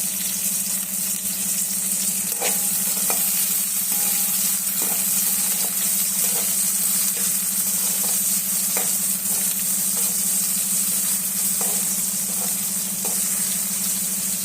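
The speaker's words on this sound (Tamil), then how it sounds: "பெரிய வெங்காயம் போட்டு வதக்கிக்கோங்க" Onions and curry leaves sautéing in a pan, a steady sizzling hiss with occasional scraping stirs of a spoon, close and continuous with no talking.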